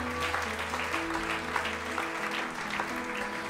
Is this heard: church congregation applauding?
yes